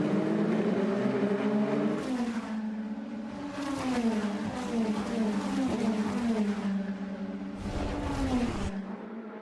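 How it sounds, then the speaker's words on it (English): Onboard race car engine at Laguna Seca, loud and continuous, rising and falling in pitch through gear changes and throttle lifts, with a brief deeper drop near the end. "This is on board with Chadwick, looking up ahead to Brooks in the green and black car"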